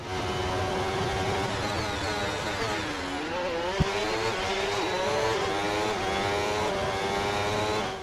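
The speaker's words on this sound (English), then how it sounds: "The engine sound has changed on several teams." Several high-pitched racing motorcycle engines in a mobile racing game whine and rev continuously, their pitch sweeping up and down as they pass, with a brief sharp knock midway.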